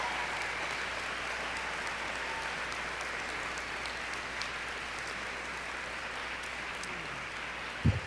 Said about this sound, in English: I ask you to demonstrate your appreciation by applauding the faculty